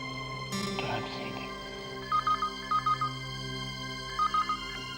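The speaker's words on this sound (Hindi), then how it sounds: "कविता, इस वक्त कैसे फोन किया?" A telephone rings with short electronic double-beep bursts, repeating three times over a low background hum after a brief rustle.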